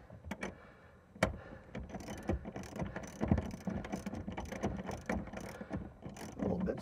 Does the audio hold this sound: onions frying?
no